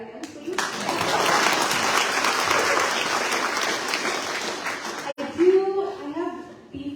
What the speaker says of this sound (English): You can clap for that again, please.